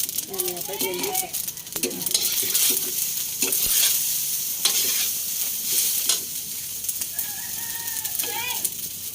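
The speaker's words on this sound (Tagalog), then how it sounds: "si nanay naman po ay nagsasangag ng aming uh, sinangag na kanin" Fried rice stir-fried in a pan, a continuous close sizzle with rhythmic scraping of a utensil, with a voice talking intermittently and faint background activity.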